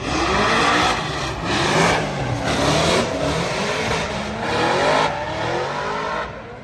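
Two near-stock 5-litre Ford Mustang drift cars at Formula Drift Long Beach, engines loudly revving in repeated surges with tire squeal as they slide past, close and intense.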